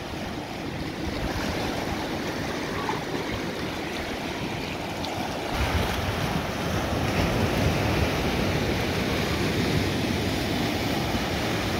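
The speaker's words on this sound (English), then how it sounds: "Wow, the wave's getting stronger and stronger." Ocean waves at Thorne Beach in Auckland, New Zealand, make a continuous broadband roar of surf mixed with wind buffeting the microphone, swelling somewhat louder in the second half.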